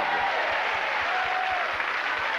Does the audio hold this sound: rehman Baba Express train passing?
no